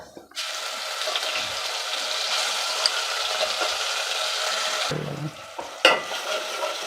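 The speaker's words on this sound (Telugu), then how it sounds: "ఇప్పుడు వెంటనే అల్లం వెల్లి పేస్ట్ వేయాలి" Ginger garlic paste with some onion sizzles and fries in a pan while being stirred for an Andhra-style veg pulav, a steady close frying hiss throughout with a brief drop and clatter near the end.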